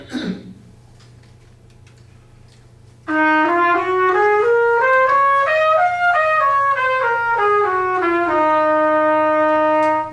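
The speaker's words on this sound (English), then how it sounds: "here's the sound of F Dorian all the way to the 9th" A single trumpet plays an F Dorian scale up to the ninth and back down in smooth, evenly spaced notes, loud and close, after a throat clear and a brief pause.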